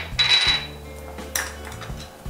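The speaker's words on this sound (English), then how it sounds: "Just stir it." Mutton roganjosh being stirred in a metal pot: a bright scraping clatter of a spoon against the pot near the start, then softer knocks and a second scrape, all close and fairly loud with no speech.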